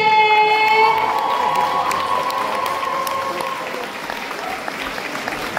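A crowd applauds and cheers a runner-up at a cosplay contest during a fantasy and Japan-themed convention, loud clapping with shouts and whoops at the start that gradually thins out and fades.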